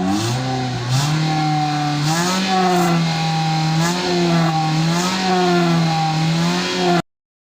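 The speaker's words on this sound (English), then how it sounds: "Rev the engine, please." A 2015 Mitsubishi Lancer with excessive tailpipe smoke and oil entering the combustion chamber revs repeatedly, its engine rising and falling in several loud, close blips before cutting off abruptly.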